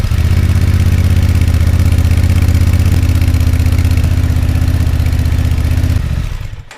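A Honda XL750 Transalp motorcycle fitted with a knockoff Chinese exhaust that leaks at its rivets idles steadily close by, a low, even engine rumble that cuts off near the end.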